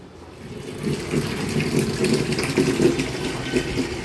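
Sandy leafy greens are washed by hand in water, with continuous sloshing and swishing that swells and ebbs, close and moderately loud with no talk.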